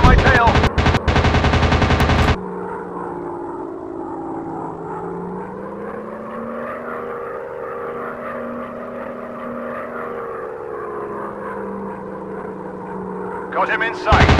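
Rapid machine gun bursts rattle loudly in a WW2 dogfight mobile game, followed by a steady droning propeller aircraft engine hum that rises and falls, with another short burst of fire at the end.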